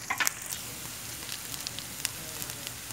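Onion, garlic and green chili sizzle in a pan, a faint steady frying hiss with a few soft stirring clicks, heard alone.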